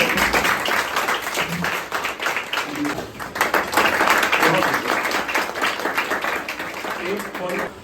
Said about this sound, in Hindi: बाकी लोग ताली बजा दीजिए